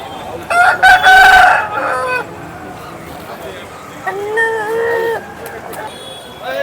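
Roosters at a Vijayawada rooster market crow loudly, first one near, drawn-out call and then a second, weaker crow a few seconds later, over a background of chatter and market babble.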